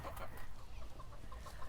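Chickens gathered around a food bowl in a backyard garden, clucking softly and repeatedly in short bursts, close but quiet, with no talking over them.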